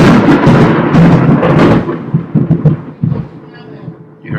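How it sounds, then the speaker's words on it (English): A deep rumble of thunder from a lightning strike near the Larkin Museum in Lima, Peru, loud and broad at first, then breaking into a few fading rolls over about four seconds. "You heard the lightning?"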